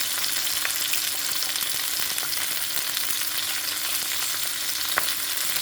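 Sea bream fries in a hot pan with a dense, steady sizzle and crackle, with scattered small pops throughout and no talking.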